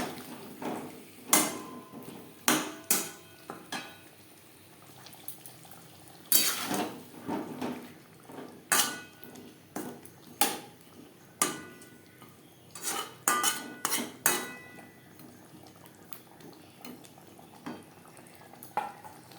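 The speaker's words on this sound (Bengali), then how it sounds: "মশলার সাথে আলু বেশ ভালো করে মিক্সড করে দেবো" Potatoes being stirred into spice paste in a pan for a Bengali tilapia fish curry, heard as intermittent close scraping and clattering strokes of a spoon against the pan, spaced irregularly with quiet gaps.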